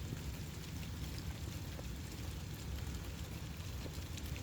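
Rain falling outside onto a cooling unit, a window well cover and pavement, a soft continuous patter with scattered faint drips, heard from a little distance with no talking.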